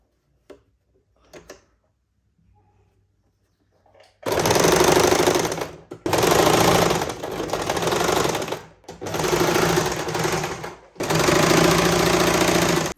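A sewing machine stitches around a blouse neckline close up. It runs in four loud, rapid bursts of mechanical chatter separated by short pauses, after several seconds of near silence with faint handling noises.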